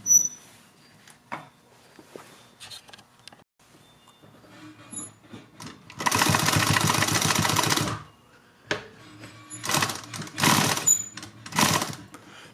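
Sewing machine stitching down pleats on a fabric face mask, with bursts of rapid stitching, one long run in the middle and shorter runs near the end, close and separated by quiet handling pauses.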